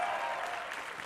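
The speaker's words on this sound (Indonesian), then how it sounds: "Tepuk tangan sekali lagi Banyak. untuk Rian Adriandi." Audience applause fills a stand-up comedy grand final in Indonesia, dense, steady clapping from a large crowd sustained throughout without any speech.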